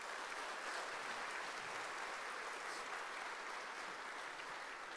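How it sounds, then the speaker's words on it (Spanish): A church congregation applauds, a distant, faint but continuous patter of many hands clapping, even in level with no voices standing out. "Dele un fuerte aplauso al Señor"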